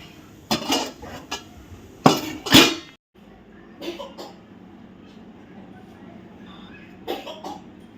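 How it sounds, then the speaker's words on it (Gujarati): Metal pots and dishes clatter and clang in sharp bursts while being washed in a home kitchen, with a couple of loud knocks early on and quieter scattered clinks after a pause. "વાસણ પડે વાસણ ઉટકવાના છે"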